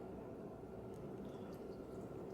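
Water poured steadily into a Tommee Tippee baby bottle steriliser machine, a continuous soft splashing trickle close by with no talking.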